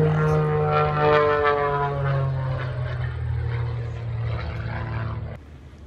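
A single-engine propeller plane flies aerobatic loops at the 2023 Lincoln Air Show, its steady engine drone sliding down in pitch as it sweeps past, then dropping away abruptly near the end.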